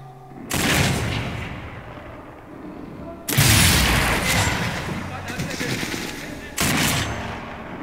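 Heavy gunfire and explosive blasts from Sniper Elite 4, arriving in three loud bursts with dense rattling fire and booming impacts, the middle burst strongest; a voice talks faintly underneath.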